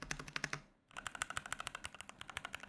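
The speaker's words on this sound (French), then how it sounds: "vous allez voir, le son des touches, c'est un truc assez cool" Keys on a compact gaming keyboard typed in quick succession, a brisk run of muffled, crisp clicks close to the microphone after a short pause, with no talking.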